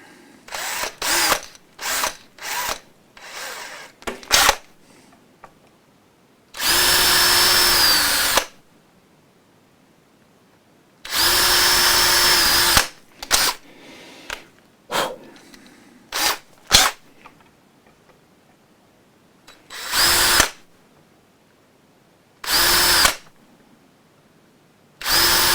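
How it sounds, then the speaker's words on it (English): A power drill with a drill bit bores holes during a Telecaster guitar re-fret, sounding in short close bursts and two longer steady whirring runs, separated by quiet gaps and small handling clicks. "when I put a slightly wider drill bit in, I tend to just do it for the top part of the hole"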